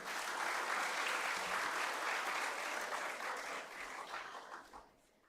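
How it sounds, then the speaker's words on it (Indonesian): A church congregation at a GBKP service applauds together, a broad sustained clatter of many hands that holds steady, then thins out and fades near the end. "tepuk tangan untuk Tuhan"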